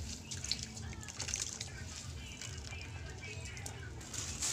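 Wet squishing and trickling as coconut milk is squeezed out of grated coconut by hand and drips down, fairly quiet with a soft voice underneath.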